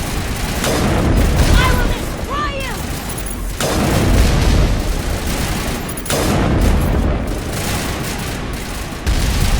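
In the video game Mass Effect, turret gunfire and explosions fill a combat scene with dense, heavy booms and rattling shots in loud bursts that repeat throughout, while someone talks over the fighting.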